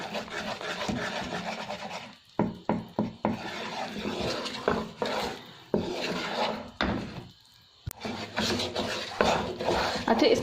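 Peanut chikki mixture roasting in desi ghee, stirred continuously in a pan: steady close scraping and rubbing strokes with a few sharp knocks, broken by brief pauses.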